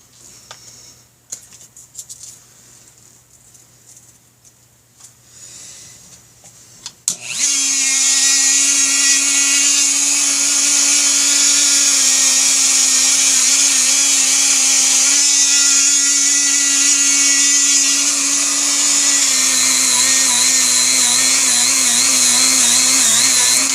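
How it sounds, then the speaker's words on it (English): A Dremel rotary tool with a cutting disc bites into a BigDog motorcycle oil tank top cover, a sharp, loud, sustained high-pitched whine kicking in after quiet handling clatter and running steadily with slight pitch shifts. "Let me get my Dremel tool on that"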